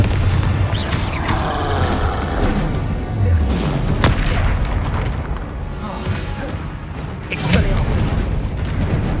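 Repeated explosive spell blasts from Confringo in the Hogwarts Legacy video game, loud booming bursts with crackling tails recurring every couple of seconds amid dense battle noise, with voices shouting throughout.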